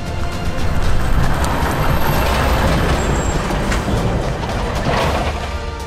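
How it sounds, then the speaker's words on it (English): A sugar beet loader at work on a farm, a heavy diesel machine giving a steady, loud engine drone with broadband mechanical rumble and clatter throughout, no voices. "Here's one of the beet loaders in operation on a neighbouring farm."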